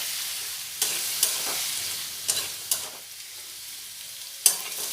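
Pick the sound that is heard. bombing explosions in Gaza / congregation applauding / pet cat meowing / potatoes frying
potatoes frying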